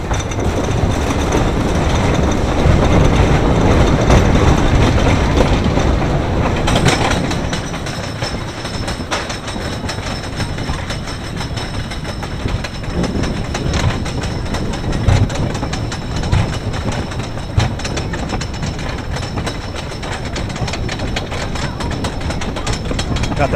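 The Zippin Pippin wooden roller coaster at Bay Beach in Green Bay, Wisconsin, heard from the front row: loud clattering wheels and rumbling track that ease into a quieter rattling roll, with occasional clicks.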